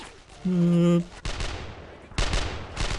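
Enemy gunfire in the Brothers in Arms shooter game comes in loud, sharp bursts of rapid shots, broken by a brief held musical tone, with the shots ringing out close and repeating.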